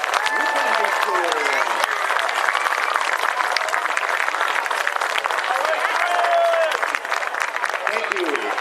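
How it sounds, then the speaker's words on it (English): Crowd at a high school football game, during a homecoming ceremony, claps in a broad steady wash for several seconds, with faint cheers and voices mixed in. "Let's give a nice round of applause for the 2024 homecoming tour."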